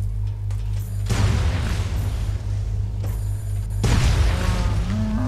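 Energy ball drone cannons in Fallout 3 detonate on impact: two loud, deep booms a few seconds apart, each one rumbling off before the next, with no talk.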